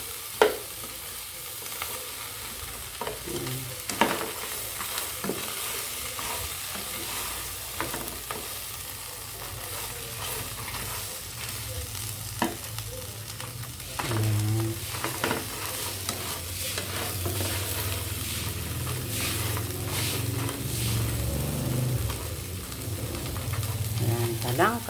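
Small talangka crabs sautéed with garlic in a pan, with steady sizzling and frequent stirring scrapes that grow louder and fuller about halfway through.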